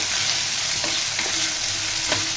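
Potatoes fry in oil in a pan for a spinach dish, giving a constant close sizzle broken by a few scraping stirs of the spatula.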